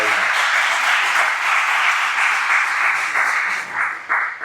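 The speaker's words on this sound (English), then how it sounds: "I just want to give a big round of applause to everybody in" Sustained audience applause fills the room at an athletic hall of fame ceremony, dense steady clapping from a crowd throughout with slight swells near the end.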